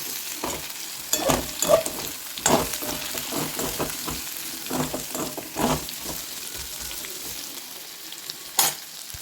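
Raw plantain pieces sauté in oil with a low steady sizzle, broken by repeated sharp scrapes and taps of a spoon stirring against the pan.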